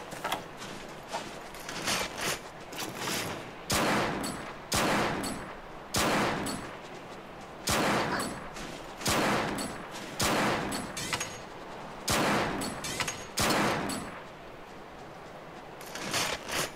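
Bowgun shots in Monster Hunter 3 Ultimate, a string of sharp loud blasts in irregular bursts, each followed by brief mechanical clacks of reloading, close and alone without talk.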